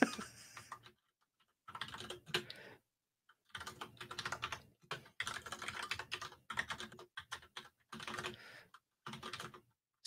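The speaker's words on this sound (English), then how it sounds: "I have to type it." Someone types on a computer keyboard in several bursts of rapid, close key clicks, with short silent pauses between runs of typing.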